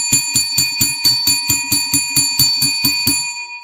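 A bell rung in a rapid even series of about fifteen bright metallic strikes, each ringing with sustained overtones, close and loud, then fading into a short tail after the last hit.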